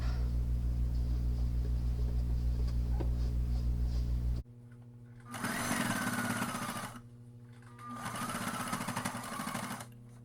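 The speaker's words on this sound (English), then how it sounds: "I'm just going to continue sewing and finish it up." A sewing machine stitches a child's circle skirt in two loud, rapid bursts separated by pauses, after a stretch of low steady hum.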